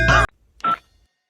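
Telephone keypad tones sound twice, each a short clean electronic beep with a pause between, loud and alone with no talk.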